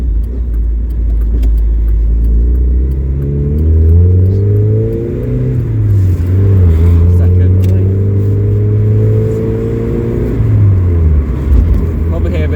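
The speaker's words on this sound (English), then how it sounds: "Did manage to capture a half decent sound file of this car, which you've just heard." A Mazda MX-5 engine climbs through the revs as the car accelerates, with loud sustained rising tones heard from inside the car and a gear change midway.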